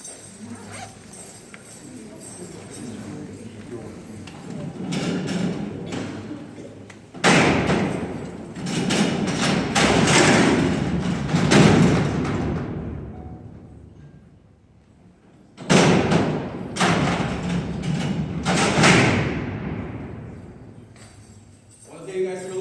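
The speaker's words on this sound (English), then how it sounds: "I'm going to open and close the door one more time." A heavy prison cell door at Alcatraz rolls open and slams shut, loud clanging metal impacts and rumbling slides repeated in two bursts with echoing decays between, with a voice also present.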